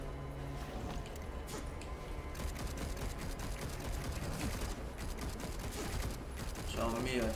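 Busy combat in the game Darksiders Genesis, with enemies' repeated sharp spear thrusts and impacts over a dense, steady background of battle noise and music.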